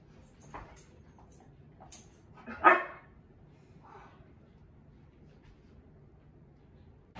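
A dog performing for a school virtual talent show gives one sharp, close bark in a quiet room, with a few faint softer yips around it.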